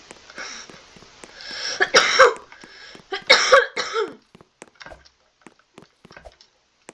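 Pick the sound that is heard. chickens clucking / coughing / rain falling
coughing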